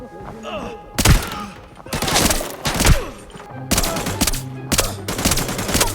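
Rapid pistol gunfire from an M9A3 handgun in the shooter game Arena Breakout, several loud bursts and single shots in quick succession with sharp thumps, close and dominant, no talking.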